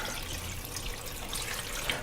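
Water pours into a pot of collard greens, a soft, steady trickle and splash that stays faint and even throughout.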